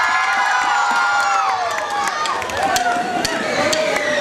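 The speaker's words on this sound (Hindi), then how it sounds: "इनके लिए भी तालियां होंगी" A school crowd at an annual celebration claps and cheers for a teacher, with children shouting and whooping over a steady wash of clapping that fills the hall.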